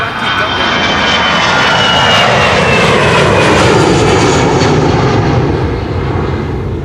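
Aer Lingus jet airliner departing Amsterdam Schiphol, its engines roaring loud and close in a steady broadband rush that swells slightly as it climbs away.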